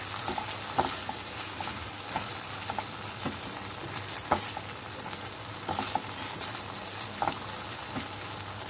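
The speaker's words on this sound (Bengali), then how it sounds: "যে পেঁয়াজ কিউব করে রেখেছিলাম সেই পেঁয়াজগুলো দিয়ে দিলাম।" Cubed onions are tossed into a hot pan for okra dopiaza and fry with a continuous sizzle, broken by stirring clatters and sharper pops at irregular moments.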